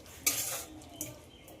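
Boiled potatoes with turmeric and spices are stirred and sautéed in a pan, a spoon scraping and clinking against the metal in two quick strokes over a faint background sizzle.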